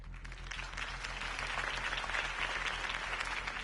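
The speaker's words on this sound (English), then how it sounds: "If only Mr. Wayne, my campaign's largest backer, could have heard that applause" A crowd applauds a campaign speech in the Batman Telltale video game, a dense, steady patter of clapping heard at a moderate distance, fairly soft and continuous throughout.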